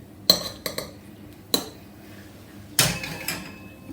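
A metal spoon scrapes and clinks against scallop shells while the scallop meat is prised free, sharp separate knocks and scrapes spaced irregularly, close up in a kitchen.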